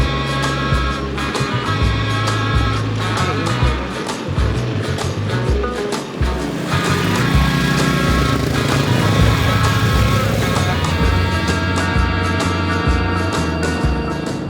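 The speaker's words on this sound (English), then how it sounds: "and start the bike." A motorcycle engine starts and then runs with an uneven, chugging low throb, loud and close, over a noisy outdoor background.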